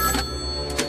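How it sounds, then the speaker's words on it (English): A telephone rings with a brief, bright, trilling bell burst that fills the short moment. "the phone rings"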